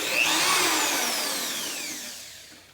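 Power drill boring pilot holes into wooden boards, a single loud high-pitched whine that rises quickly then slowly winds down over about two and a half seconds, close by with no talking.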